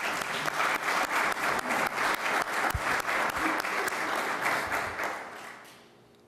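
A crowd at a Shawnee County Commission meeting applauds a commissioner with loud, sustained clapping. It fades out in the last second.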